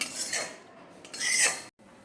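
Roasted coconut mixed into a jaggery and peanut ladoo mixture, a couple of close scraping, rubbing strokes of a spoon against a bowl, with no talk.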